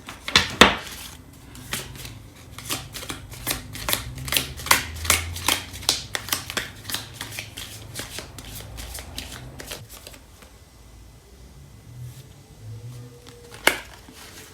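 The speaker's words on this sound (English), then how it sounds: "I'm going to pull out an oracle card" Oracle cards being shuffled by hand, a rapid run of crisp, riffling slaps and flicks that fades into scattered soft card sounds, then one sharp tap near the end, close up with no talk.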